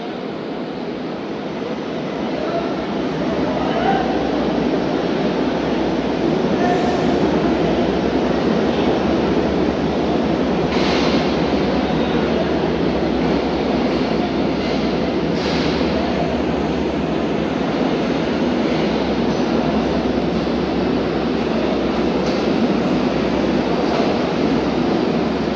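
A Green Line train stands at platform 2 of a railway station, its steady rumble filling the air loudly and continuously, with faint clanks and brief higher hisses rising over the sustained drone.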